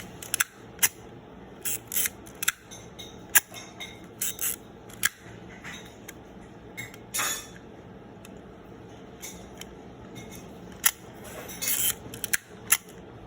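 Zorki 4K 35 mm rangefinder film camera with a Jupiter 8 50mm f/2 lens, its shutter cocked and fired repeatedly: sharp mechanical clicks and winding rasps in an irregular series, close and alone over a faint room hiss.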